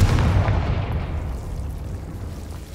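A deep, rumbling explosion from the Confringo fire spell in the video game Hogwarts Legacy, loud at the start and then decaying into a long, dense roar that fades gradually over a few seconds.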